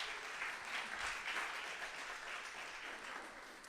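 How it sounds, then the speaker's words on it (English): An audience applauds steadily, a dense wash of many hands clapping at moderate volume, fairly distant and without voices. "We'll give him a round of applause."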